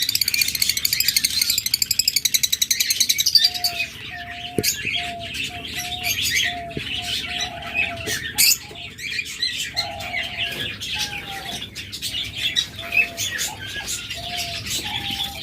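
Caged pet birds, lovebirds, budgerigars and Java sparrows, chirp and tweet in a busy continuous chorus at a bird sale, close and fairly loud, with dense overlapping calls and a few clearer whistled notes.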